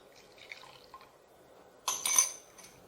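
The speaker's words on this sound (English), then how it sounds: "I'll pour the water phase into the oil phase." Heated water phase is poured into a heated oil phase for hibiscus and rose hand cream, a soft, brief liquid splash and trickle into a container after a few faint drips, quiet and close, without speech.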